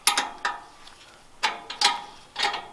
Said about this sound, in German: dann bauen wir das Auspuffrohr ab